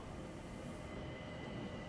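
A steady rumble of a train rolling along the tracks in the video game Murder on the Orient Express, with a faint high squeal of wheels over continuous low noise.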